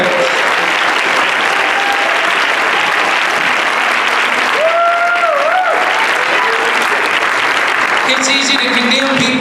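A church congregation claps loudly and continuously in praise during a sermon, a thick unbroken roar of hands with singing or organ-like tones weaving through.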